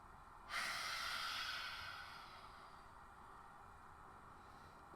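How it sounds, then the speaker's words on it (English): A single deep inhale through the nose during a vinyasa flow yoga class, a soft breathy rush that starts abruptly, holds, then slowly fades into quiet room hiss. "Take a deep breath in through the nose."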